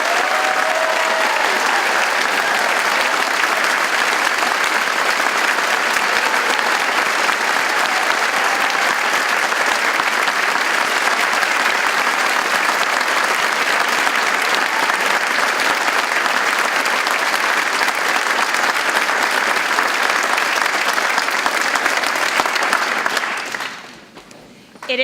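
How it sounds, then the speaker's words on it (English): A large audience at a medical school white coat ceremony applauds the students in a long, sustained, even roar of clapping that drops off abruptly at the end. "Let's have a round of applause for our students."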